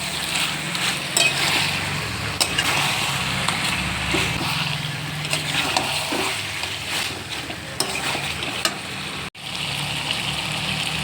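Chicken meat is stirred and sautéed in a pot, producing a continuous close frying hiss broken by frequent soft scrapes and clicks of stirring, with no talking.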